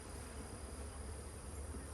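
Honey bees hum steadily around their hive, a dense continuous buzz heard fairly close and even in level, with no voices over it.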